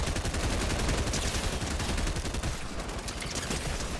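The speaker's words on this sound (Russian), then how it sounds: "Кто стреляет?" Rapid gunfire in Fortnite, loud bursts of closely spaced shots running continuously like machine-gun fire, dense and near throughout.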